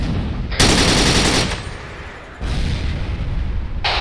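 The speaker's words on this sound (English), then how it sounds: "Mortars, those are mortars coming down." Mortar shells exploding in the military shooter Arma 3, heard as loud sustained blasts and rumbling bursts of fire, with a heavy burst early, a quieter stretch, then another strong burst, no talk.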